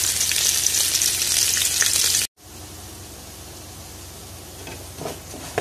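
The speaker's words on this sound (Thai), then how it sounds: "ผัดให้หอมนะคะ" Pounded homegrown Thai curry paste stir-fried over medium heat for a catfish phat cha sputters loudly up close, then the sizzle drops to a softer steady hiss after a brief break.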